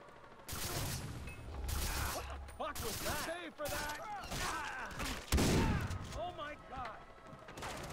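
Enemy pirate gunfire in the video game Far Cry 3, a loud chaotic stretch of repeated shots and crashing impacts mixed with clanking mechanical noises and shouted voices throughout.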